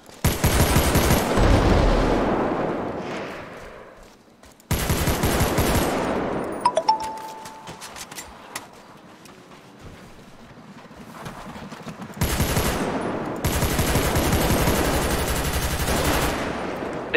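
Heavy automatic gunfire from a shooter video game, with long dense rattling bursts separated by quieter gaps and scattered single cracks, loud and close, with no speech.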